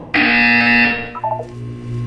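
A loud electronic buzzer from the video game Portal 2 sounds in one sustained blast, then breaks into a few short fading tones; no talking.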